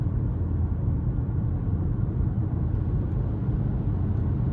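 A 2026 Ford Maverick Hybrid XL AWD accelerates under light throttle, giving a steady, fairly loud low rumble of engine and road noise from inside the cabin with no talking.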